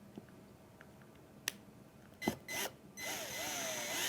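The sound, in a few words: drill driving a screw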